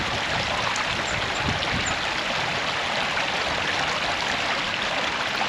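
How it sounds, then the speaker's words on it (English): Creek water rushes and burbles steadily at Bowman's Hill Wildflower Preserve, a dense, continuous flow close by with no voices. "I love the sound of water. That's why most of my favorite hikes are along the creek"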